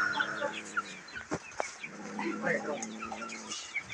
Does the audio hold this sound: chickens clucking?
yes